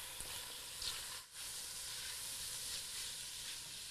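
Spices sizzling in a hot pan just after being stirred, a soft continuous hiss of frying with a brief dip midway, quiet and without talk.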